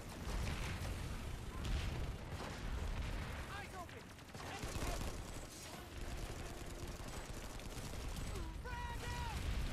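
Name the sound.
gunfire in video game Planetside 2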